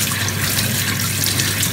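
Cold water pours steadily from a tap over a pair of hands, a continuous broadband splashing hiss that stays loud and even throughout with no voices.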